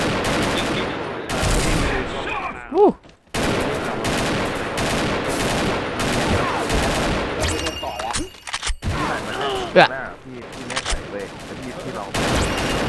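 Rapid bursts of automatic rifle fire, AK-47 and M4 style, crackle through a shooting video game match, with steady loud volleys broken by short gaps while a player talks excitedly over the shots.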